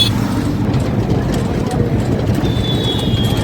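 A group of young men on motorbikes rides together on the road to Beldanga, their engines making a continuous, steady low rumble. A faint high whine joins the rumble near the end.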